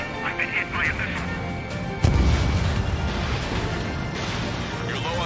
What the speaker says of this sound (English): Rammy, I've been hit by a missile.